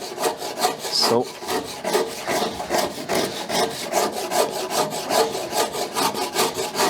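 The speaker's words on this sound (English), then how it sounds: "something like the Shinto rasp is a great tool as well. It does hog off material quite quickly" A Shinto rasp cuts into Irish oak while shaping a decorative dough bowl, making rapid, rhythmic, close scraping strokes that repeat steadily several times a second.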